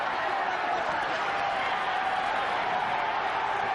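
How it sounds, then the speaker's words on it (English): Boxing arena crowd urging on Larry Holmes late in his bout against Lucien Rodriguez, a steady distant roar of many voices with a commentator talking over it. "Crowd urging Holmes on as we approach a minute left in the bout"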